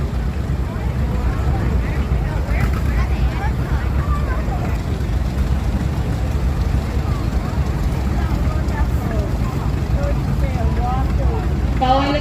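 A 1954 Case 500 tractor drives past at a threshing show in Almelund, Minnesota, its steady low engine rumble continuous and fairly loud, with crowd chatter and outdoor noise mixed in throughout.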